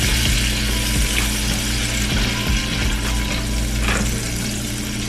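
Steak frying in butter with garlic gives a steady, loud sizzle throughout, with a few soft scraping stirs and a low hum underneath; no talking.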